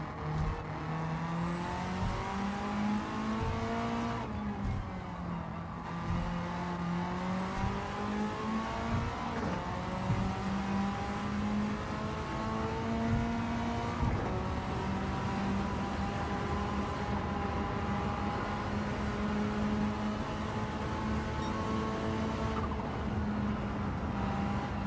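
A Mitsubishi Evolution VIII race car engine in Gran Turismo 7 at the Tokyo circuit, revving steadily with a loud continuous drone that rises through the gears in repeated climbs, with brief dips at each shift and no talk.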